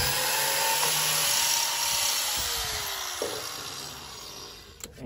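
A biscuit joiner whirs through a plunge cut into wood while trimming a door, a steady high whine that fades slightly and ends with a brief bump, with no talk.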